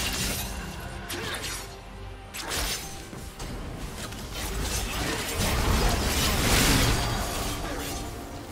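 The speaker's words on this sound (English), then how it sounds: "New team turret has been destroyed." A turret collapses in League of Legends with shattering, crunching destruction and mechanical clatter, loud and close, layered with game effects and a brief voice announcement.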